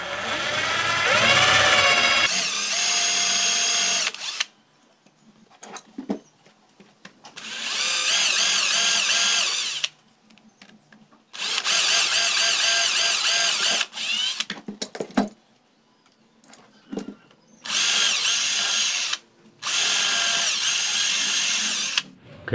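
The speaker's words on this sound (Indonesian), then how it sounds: "di sini tinggal kalian bor ya pakai mata bor M2" A power drill fitted with an M2 bit bores into PVC pipe, running in several loud whirring bursts of a few seconds each, separated by short pauses with faint handling noises.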